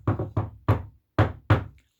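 Five sharp knocks land on Granny's wooden door in a quick uneven pattern, two, one, then two, close and clear with silence between.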